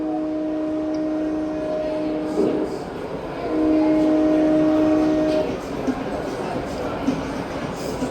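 A sustained, steady train whistle or horn tone sounds twice over a constant rumbling background at a train-themed attraction. The second blast is a little louder than the first.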